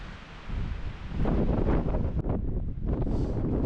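Gusty wind buffets the microphone in a loud, continuous rumble with no voices, high on the trail to Humboldt Peak, a Colorado fourteener.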